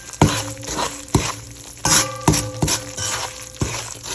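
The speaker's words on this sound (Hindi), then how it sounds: "अब हम अपनी सूजी की भुनाई कर रहे हैं।" Semolina is stirred while it roasts in a pan. A spoon scrapes and clinks against the pan in irregular strokes, close and fairly loud, with a soft gritty patter between them.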